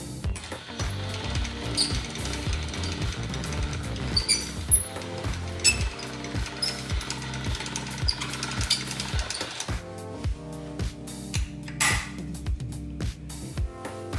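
Hand-cranked pasta machine rolling fresh carbonara dough into thinner, longer sheets, giving a steady rhythmic clicking ratchet of gears with each crank, close and fairly loud, with a brief pause before cranking resumes.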